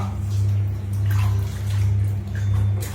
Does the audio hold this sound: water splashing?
yes